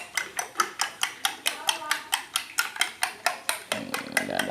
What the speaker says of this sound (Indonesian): begini bos kalau mau kocok telur